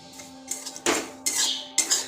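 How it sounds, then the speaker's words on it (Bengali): A spoon scrapes and stirs semolina lightly frying in a pan over a very low gas flame, with several short, separate metallic scraping strokes that are close and fairly quiet. "ভালোভাবে নাড়াচাড়া করে আমি হালকা করে ভেজে নেব"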